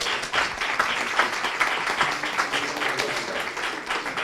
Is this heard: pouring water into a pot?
no